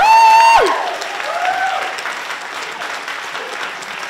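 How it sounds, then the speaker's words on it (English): An audience applauds the storytellers at the close of a live show, a loud sustained wash of clapping that fades slightly after a voice's brief whoop at the start. "One more round of applause for all the storytellers"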